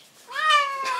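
A cat's single drawn-out meow, close and fairly loud, rising then falling within about a second, from a cat being given its first bath.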